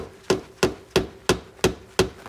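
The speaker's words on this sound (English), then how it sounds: "I'm gonna take a rubber mallet, we're gonna tap on it." A rubber mallet taps on the rear differential cover of a 2002-2007 Jeep Liberty, six dull, evenly spaced knocks close by, each with a brief ringing tail and no talking.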